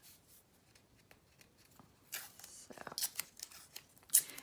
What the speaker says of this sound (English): we're going to just get some tape. Tape this down real quick.